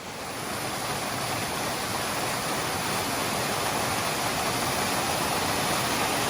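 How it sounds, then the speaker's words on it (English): A waterfall on the Cradle Mountain track in Tasmania roars in a steady, loud, broadband rush of falling water, continuous and close throughout with no voices. "I'll show you the falls"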